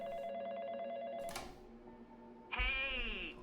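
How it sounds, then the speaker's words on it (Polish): A telephone rings in The Fazbear Facility horror game: an electronic ring, a pause with a low thud, then a louder, brighter ring with a falling tail. "Gdzie jest ten telefon?"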